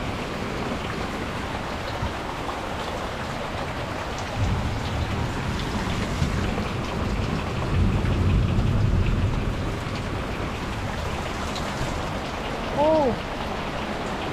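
Steady rain pours down close by with a dense, even hiss and patter, swelling briefly in places; a voice exclaims once near the end.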